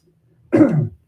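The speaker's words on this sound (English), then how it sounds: "we don't need that cough." A single short, close cough rings out after near silence, a dry throaty burst lasting under half a second.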